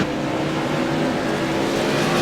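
Modified race cars roar around New Smyrna Speedway in a CRA modified tour race, a loud, steady engine drone filling the air continuously with no pauses or clear pass-bys.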